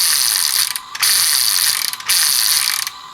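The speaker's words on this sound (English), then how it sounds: "It activates sounds, lights, and it makes the propeller spin." A toy plane modelled on Tails gives off loud, bright electronic whirring and mechanical ratcheting as its propeller spins. The sound comes in two sustained bursts separated by short gaps.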